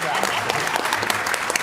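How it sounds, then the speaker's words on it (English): Brief burst of applause from a small live audience at a comedy showdown event, a short patter of claps lasting under two seconds. "Give him a round of applause."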